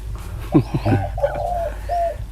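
A dove gives a few soft, close coos, low and rounded, with faint background noise between the calls.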